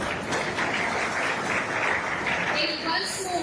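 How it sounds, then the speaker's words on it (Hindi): Audience applause fills a student seminar hall organized by a coaching institute, a steady, loud and dense clapping that runs unbroken throughout, with crowd voices mixed in. "एक बार जोर से अपनी तालियां बजा दीजिए"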